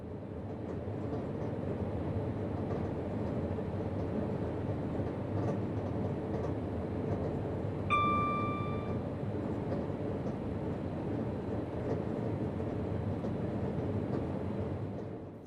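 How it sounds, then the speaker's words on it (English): A Pendolino tilting train runs on the main line through a curve towards Watford Junction, heard from the driver's cab as a steady low rumble of wheels and motors with a brief tonal whine midway. "The degree of tilt becomes particularly noticeable as we take the inner curve towards Watford"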